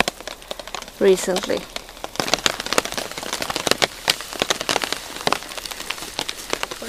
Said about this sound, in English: Well, I asked for a little rain and here it is.